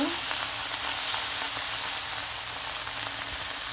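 Rohu fish coated in turmeric and salt fries in hot oil, giving a dense, continuous sizzle that stays steady and close throughout the short stretch. No voice is heard.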